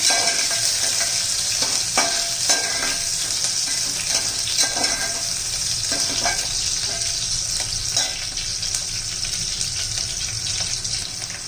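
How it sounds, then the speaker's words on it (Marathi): Vertically sliced onion frying in hot oil for chicken soup gives a steady, loud sizzle that runs without a break, with faint scrapes of stirring now and then. "आता तेल गरम झालेलं आहे एक कांदा मी उभा चिरून घेतलेला आहे ते चांगलं परतून घ्यायचं आपल्याला"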